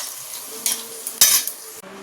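Okra fries in a pan with a soft, steady sizzle, broken by a few clinks and scrapes of a utensil stirring against the metal.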